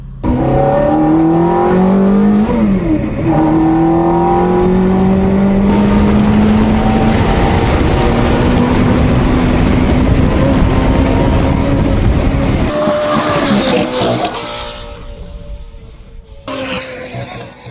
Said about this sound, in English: even though the Ferrari was bouncing round, they decided to go for run 2